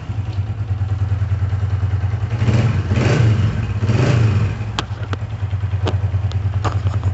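A freshly assembled 125cc motorcycle engine idles with a steady low throb, then revs up a few times before settling back to a steady idle, close by.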